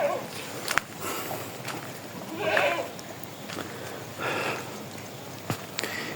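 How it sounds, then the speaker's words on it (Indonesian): Goats bleating among the livestock kept behind village houses in a remote Banyuwangi settlement, a few faint, wavering calls rising at a distance over steady outdoor background noise. "di belakang rumah-rumah di sini, ini banyak sekali ternak kambing"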